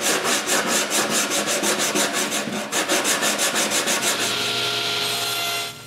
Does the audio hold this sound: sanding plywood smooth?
yes